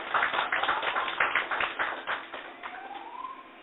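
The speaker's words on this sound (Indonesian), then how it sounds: "tepuk tangan buat Tuhan" A church congregation claps during a sermon, a thick run of overlapping hand claps that gradually thins and softens, with a faint rising tone near the end.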